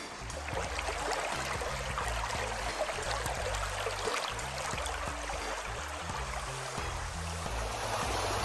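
Swift Camp Creek in Red River Gorge, Kentucky, flows steadily nearby with a constant rushing, bubbling wash of water, alone and even in level throughout.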